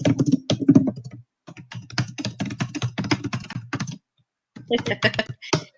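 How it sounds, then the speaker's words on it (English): Fast typing on a computer keyboard, dense bursts of close, crisp key clicks in quick rhythmic runs, broken by short pauses, with no talk over it. "There, I'm typing it."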